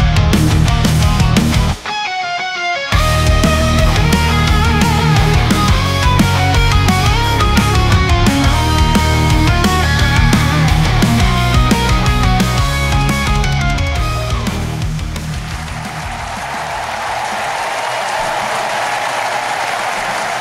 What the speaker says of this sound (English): that's the sound of Eagles fans rejoicing